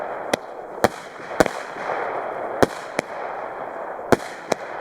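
Poison firework show set off over a small lake, seven sharp bangs at irregular intervals, each followed by a crackling hiss that fades between blasts.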